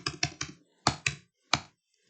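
Keys clack on a computer keyboard in a quick run of three taps, a pause, two more, then a final sharp press, each crisp and close in an otherwise silent room.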